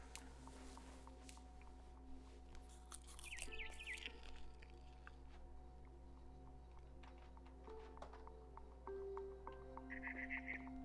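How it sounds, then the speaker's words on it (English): In the video game What Remains of Edith Finch, a barn swallow chirps outside a window: faint, brief clusters of high chirps over a quiet, humming room tone. "Then I heard chirping outside my window."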